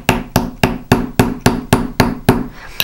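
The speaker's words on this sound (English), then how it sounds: "I'm gonna go ahead and start tapping with my riveting hammer." Riveting hammer tapping firmly on a rivet for a riveted, textured disc bracelet: about ten sharp, even metallic taps in a steady rhythm, close and loud, with no talking.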